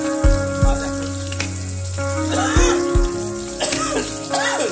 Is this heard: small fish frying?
yes